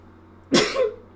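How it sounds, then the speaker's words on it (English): A single short, sharp sneeze-like burst from a person close by, abrupt and loud, followed by a brief tail, in otherwise quiet surroundings. "I'm about to sneeze."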